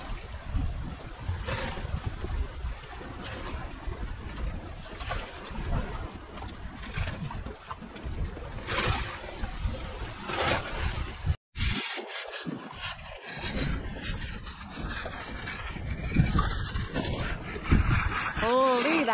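Strong wind roars and buffets across the open water on a boat on a wavy day, with splashing water and brief shouts mixed in; a sudden gust cuts out for a moment midway.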